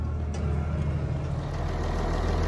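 A White 140 farm tractor idles in a field to cool down, giving a steady low diesel rumble that stays even and unbroken, with no talk over it.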